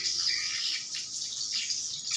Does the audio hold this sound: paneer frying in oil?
no